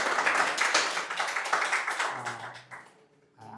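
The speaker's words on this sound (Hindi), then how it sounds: "ताली बजाओ।" A class of students claps their hands together in a dense patter that runs for about two and a half seconds, then thins out and fades away.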